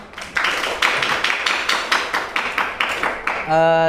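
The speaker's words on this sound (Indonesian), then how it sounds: "kalau tidak ada beri tepuk tangan untuk kelompok 6" Classroom applause for a student group, a rapid series of sharp, fairly close hand claps in a steady rhythm, ending with a brief tonal ring.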